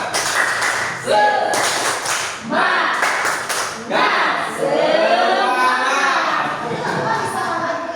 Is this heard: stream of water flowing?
no